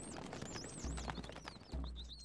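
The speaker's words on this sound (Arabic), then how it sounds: "الفرس تعدو" Horse hooves clip-clopping in the video game Stronghold Crusader, a quiet rhythmic beat mixed with chirping birds and low thuds.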